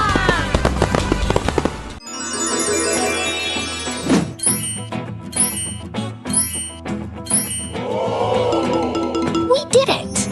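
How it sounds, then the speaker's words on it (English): Cartoon fireworks in a children's dinosaur puzzle game: whistling rises and a rapid series of crackling bangs and pops play over bright music, with a voice speaking at the start. "Boom! Fireworks for a job well done!"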